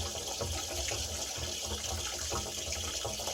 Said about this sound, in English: While the tank is draining